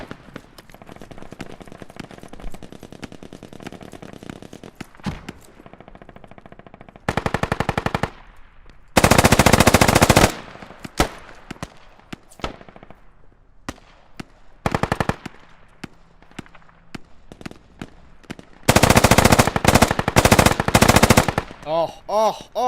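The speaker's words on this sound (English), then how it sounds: "he's shooting at us from main." Sustained bursts of automatic gunfire from the multiplayer shooter Squad, loud and near, arriving in several long volleys separated by quieter stretches of distant shots and ambient battlefield noise.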